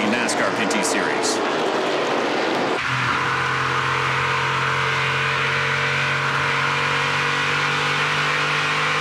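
A NASCAR Pinty's Series stock car engine roars loudly and close at a race on a New Hampshire track, first a harsh, rising rush, then a steady, high-pitched drone as the car holds throttle through the turn.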